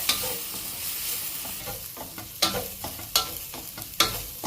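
Soaked chana dal and toor dal fry in a pan with a steady sizzle, punctuated by a few sharp stirring scrapes, close and fairly quiet, with no talking.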